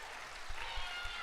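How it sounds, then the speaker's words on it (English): Applause from a concert audience greeting a lead cello soloist: a faint, steady patter of clapping held well back in the room, with a few soft low thumps underneath. "You get applause and you haven't played a note"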